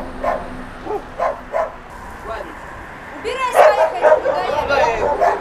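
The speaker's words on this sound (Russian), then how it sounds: "Привязывай, говорю, собак, убирай." Dogs bark in a series of loud, close yips and bow-wows, spaced at first then merging into a frantic cluster near the end, with people talking over them.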